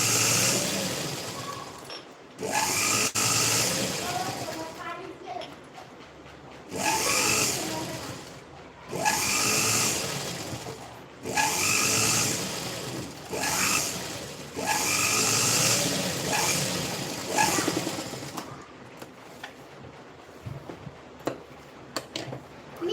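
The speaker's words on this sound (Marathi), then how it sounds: "दुसऱ्या साईडने सुद्धा तशी शिलाई मारून" A sewing machine stitches the second side of a fabric piece, running in several steady mechanical bursts of a few seconds each, loud and close, separated by short pauses.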